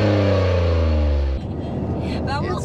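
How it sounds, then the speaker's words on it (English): Turbocharged three-cylinder engine of a 2023 Toyota GR Corolla revving hard with strong low harmonics for over a second, then cutting off into road rumble and background noise. "so turbocharged three-cylinder under the hood"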